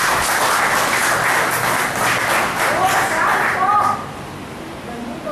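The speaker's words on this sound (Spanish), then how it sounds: "¿Cuánto pueden dar un aplauso?" A church congregation claps in broad applause that holds steady and then thins out after a few seconds, with a voice heard faintly beneath it.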